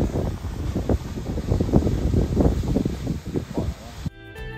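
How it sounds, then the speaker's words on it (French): Wind buffets the microphone outdoors in Yellowstone National Park with heavy low rumbling gusts that rise and fall, then it drops away abruptly near the end. "Bon, il y a du vent, j'espère que ça va aller."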